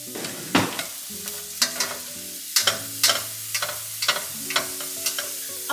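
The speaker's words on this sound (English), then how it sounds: "This is about 1 cup of diced onion. And we are just going to saute that up until it's soft." About a cup of diced onion sautéing in olive oil in a pan, with steady close sizzling and repeated scraping stirs at an uneven rhythm, no talk.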